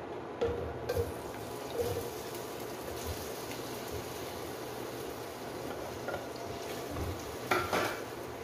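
Hotdogs frying in hot cooking oil in a pan while making spaghetti, a steady crackling sizzle heard up close throughout, with occasional soft clinks and scrapes of utensils against the pan.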